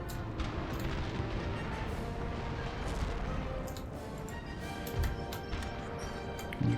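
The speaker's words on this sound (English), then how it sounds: "And you watch out for artillery fire." Artillery fire in Napoleon: Total War booms out in dull, scattered thuds and crashes over a constant rumble of battle, several heavy blasts coming close together, mostly without talk.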